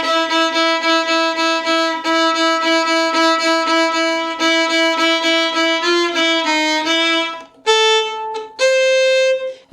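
A violin plays a beginner phrase as a run of quick, evenly repeated bowed notes, close and clear, ending on a few longer sustained tones with no talking.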